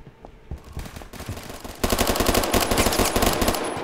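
Gunfire in the Roblox game Phantom Forces: scattered single shots that give way to a loud, rapid automatic burst, close and continuous to the end.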